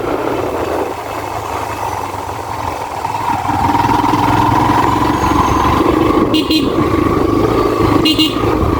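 A motorbike rides through traffic during a trek-route trip, its engine droning steadily and growing louder midway, with two short horn toots near the end.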